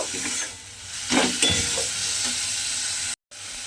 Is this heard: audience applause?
no